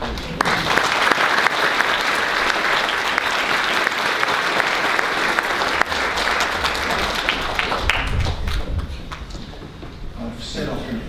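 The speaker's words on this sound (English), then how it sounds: "I think round of applause" Audience at a school presentation day ceremony breaks into loud, dense applause that carries on for several seconds, then thins out and fades as murmuring and shuffling take over near the end.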